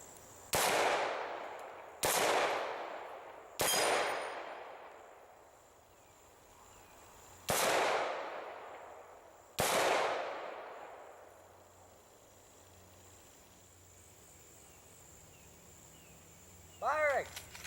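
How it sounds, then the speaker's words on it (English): Five loud, sharp rifle shots fired from a 30-round steel magazine at short range, spaced a second or two apart, each followed by a long echoing decay. "I'll try to shoot as quick as possible"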